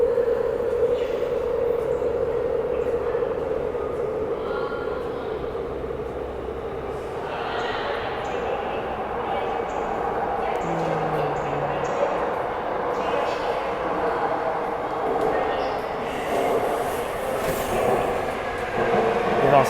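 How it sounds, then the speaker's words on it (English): A Seoul Metropolitan Subway train approaches along the track, building into a steady rumbling roar with faint metallic squeals and some distant voices on the platform. "The train might be coming."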